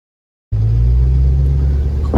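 A pickup truck cruising down the road, heard from inside the cab, where a loud, steady low engine drone and road rumble start abruptly after half a second of silence and continue evenly.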